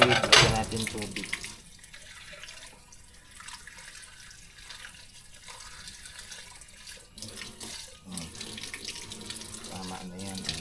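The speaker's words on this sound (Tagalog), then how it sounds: "Tubig, lagyan natin tubig." Water pours into a cooking pot, with a loud splashing gush at the start that settles into a softer steady trickle, plus a few drips and clinks near the end.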